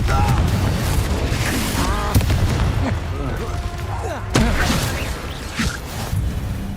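Confringo blasting curse explosions in the Hogwarts Legacy video game, loud booming bursts amid a dense clash of battle noise and layered game sound, with a sharp blast near the middle.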